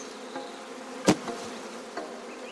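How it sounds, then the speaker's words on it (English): Dense, steady buzzing of a mass of bees dropped onto a sloping hive surface on a Victorian-style farm, close and continuous, with a sharp knock partway through. "There are the bees again, and I drop them onto this sloping surface, and they'll all start to walk uphill."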